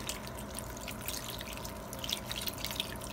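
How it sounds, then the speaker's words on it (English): Canned chicken broth poured into a cooking pan, a steady soft liquid pour with light dripping and spattering throughout, close and quiet with no talk. "we're pouring in a can of chicken broth"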